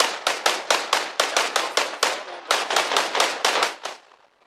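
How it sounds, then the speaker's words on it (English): Gunfire and explosions in the video game Arma Reforger: rapid, evenly spaced sharp bangs, about a dozen in quick succession, loud and close, with a brief pause before a final burst that fades out. "The explosions are pretty cool."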